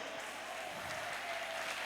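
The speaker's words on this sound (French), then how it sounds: "Oh, bien aimé, applaudissez pour elle." A church congregation applauds the pastor's wife during a worship service, a steady, fairly distant wash of many hands clapping without pause.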